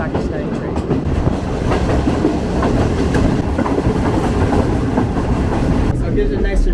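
A Pakistani Green Line passenger train runs steadily along the tracks, a loud continuous rumble with rhythmic rattling of the wheels.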